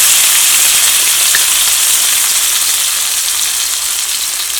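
Finely chopped potato frying in hot oil with mustard seeds and cumin, a steady close sizzle with a dense crackling hiss running evenly throughout and no talking.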